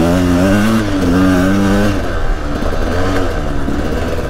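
A blue Sherco SE-R 300 dirt bike is ridden across a field, its two-stroke engine revving loud and close in rising and falling pulls, with a raspy, clattering note that dips briefly before climbing again.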